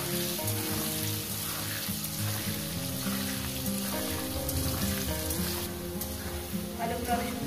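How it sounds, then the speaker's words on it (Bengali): Potatoes frying in a pan with turmeric and salt, a continuous close sizzle with occasional stirring, heard beneath steady background music. "আলুগুলো আমি সুন্দর করে ভেজে নিয়েছি 2 মিনিট ধরে"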